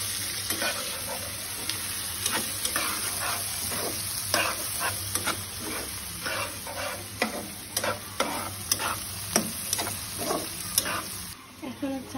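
Whole bay leaf, cardamom, cloves and black pepper sizzle in hot oil in a pot, a steady frying hiss broken by repeated sharp scraping clicks of a spoon stirring against the metal.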